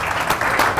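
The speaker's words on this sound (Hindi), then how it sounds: "भरपूर तालियां" Studio audience applause on a morning TV show, a dense steady wash of clapping filling the short moment without a break.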